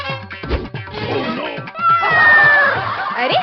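A cat meows in a loud, drawn-out series with rising and falling wails, closer to a caterwaul by the end, set in a Hindi comedy skit about a lion that turns into a cat.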